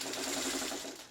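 A sewing machine stitches a small triangle of a quilt block in one steady, fast burst of close mechanical whirring, fading as the seam ends.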